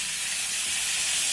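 Chole and potatoes sizzle in a hot pan, a steady, bright hiss that is close and even throughout the brief moment, with no voices.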